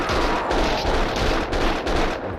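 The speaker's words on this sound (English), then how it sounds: "Someone must have heard the gunfire." Gunfire in the video game Max Payne 2, a loud dense burst of rapid shots cracking over one another with echoing tails, continuous through the stretch.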